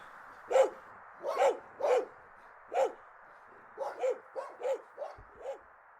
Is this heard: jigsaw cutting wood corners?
no